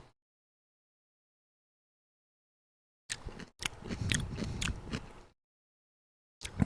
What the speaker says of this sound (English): You can hear the chewing and the mastication sounds.